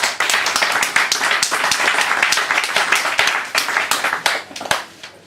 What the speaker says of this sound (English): More applause, please, for Jasmine.